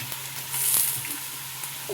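Chillies hitting hot oil in a home-style frying pan, giving a short, moderately loud hiss and crackle that swells briefly and then settles back to a steady sizzle.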